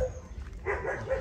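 A dog gives a short, fairly close bark that lands after a brief low rumble of background noise, a single quick yelping burst with no talking over it.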